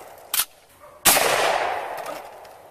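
Two loud gunshots from a gun in a 2003 film, a short sharp crack followed by a heavier blast that rings out and decays over a couple of seconds.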